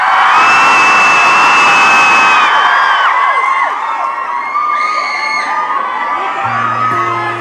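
A sold-out concert crowd at Manchester Academy cheers and whoops loudly, with dense shouting and screams that hold steady throughout and a few faint instrument notes near the end.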